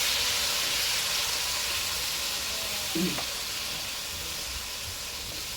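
Onion and garlic sizzle steadily in hot oil while being sautéed as the base for sinigang, a continuous frying hiss with a brief clink of stirring partway through.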